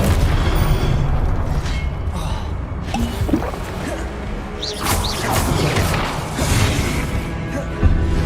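The Expelliarmus disarming spell cast in the video game Hogwarts Legacy, a dense rumbling burst of booming, crashing magic impacts with whooshing swells over continuous noisy game ambience, a heavier thud near the end.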